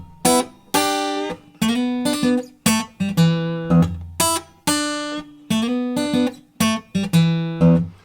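Only the top line of a blues riff is picked on guitar, a repeating series of sharp, ringing plucks in an even rhythm, clear and close with no talking.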